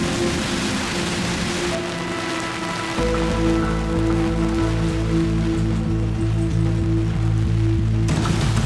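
Heavy rain pours steadily and loudly during a torrential storm, a dense continuous roar with drips and a low sustained hum beneath it, no voices.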